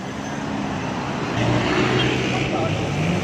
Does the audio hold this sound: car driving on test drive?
yes